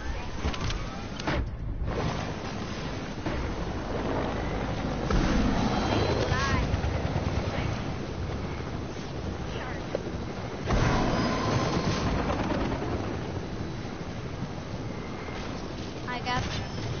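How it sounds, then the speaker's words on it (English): A helicopter spools up in Fortnite Chapter 2 Season 3, giving a steady close broadband whir and rumble with rising whining tones that swell twice, while game voices murmur faintly beneath. "I'm gonna get the heli ready."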